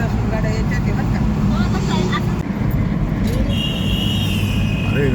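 A vehicle engine rumbling on a road in Ayodhya, from a vehicle belching thick black exhaust smoke, gives a steady, loud, low roar throughout, with voices in the background.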